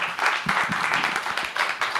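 An audience at a media freedom festival session gives a warm round of applause, moderately loud and somewhat uneven, with a few brief vocal bursts mixed into the clapping.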